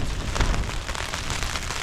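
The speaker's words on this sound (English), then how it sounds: "But it is still raining" Rain pattering on a Dyneema (DCF) tent during wild camping, a dense, steady patter of drops close to the fabric with no talk.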